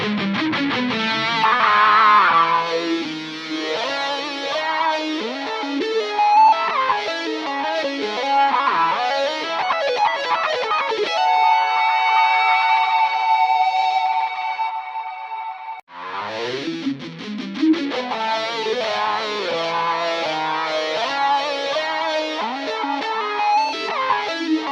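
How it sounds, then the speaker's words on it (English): An electric guitar solo runs through a free wah VST plugin, with sweeping, distorted lead lines and a long sustained note in the middle. After a brief dropout the playing comes back, loud and continuous, with no voice. "let's give it a try on this guitar solo."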